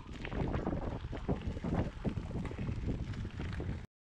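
Heavy wind buffeting a microphone while gravel cycling, producing a rumbling, gusty roar that fluctuates for several seconds before cutting off abruptly.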